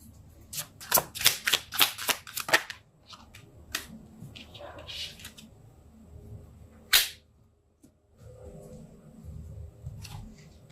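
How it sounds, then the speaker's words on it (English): Tarot cards are shuffled close up, with a rapid run of crisp riffling bursts early on, then scattered softer flicks and slides of the deck amid quiet pauses. "I'm going to pull some more cards and see what else the story has to say."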